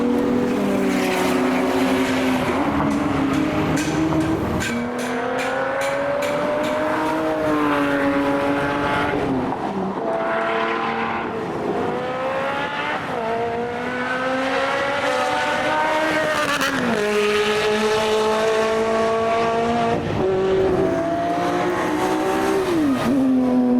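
Cars at a car meet, including Nissan R34 GTRs, drive past in a series of loud, close flybys, engines revving and rising and falling in pitch with gear shifts, one after another with no gaps.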